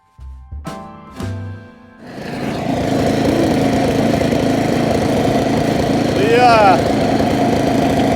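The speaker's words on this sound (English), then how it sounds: "Let's go till up some dirt." A garden tiller starts up for tilling soil in a home garden after a few brief sounds and a voice, then its engine runs at a loud, steady drone that swells slightly near the end.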